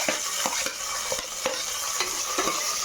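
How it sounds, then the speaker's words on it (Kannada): Vegetables including onion and beans are stirred as they fry in a pan for spinach-fenugreek pulao, giving repeated scraping strokes over a steady, close sizzle with no talking. "ಎಲ್ಲವನ್ನು ಒಂದಾಗೆ ಹಾಕ್ಕೊಳ್ತಾ ಮಿಕ್ಸ್ ಮಾಡ್ಕೊತ ಹೋಗಿ ಫ್ರೆಂಡ್ಸ್"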